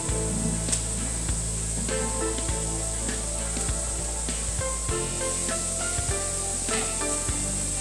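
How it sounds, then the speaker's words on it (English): Diced ginger goes into a frying pan where garlic and onions are already browning, giving a steady, close hiss and crackle of sizzling oil that runs unbroken throughout, with no voices. "My garlic and onions are getting browned in already, so I'm going to add my ginger as well"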